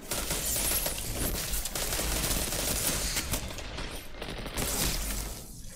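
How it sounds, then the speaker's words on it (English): Gunfire and pulse grenade bursts in a Destiny 2 multiplayer match, dense rapid shots rattling almost nonstop, loud and close, with short pulsing thumps mixed into the barrage. "I was hoping the pulses from my grenade would get him."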